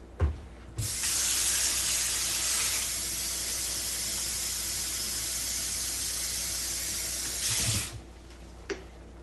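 A kitchen tap runs water for home beer brewing, a steady loud rushing hiss that starts abruptly, flows unbroken for about seven seconds, then cuts off, with no talking.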